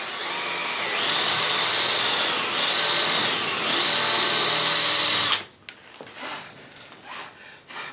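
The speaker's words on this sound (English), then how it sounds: "Gonna need another 1/2 inch hole there." A power drill bores a half-inch hole in a workpiece with a loud, continuous whine lasting about five seconds, then stops abruptly, leaving faint scraping and handling noises.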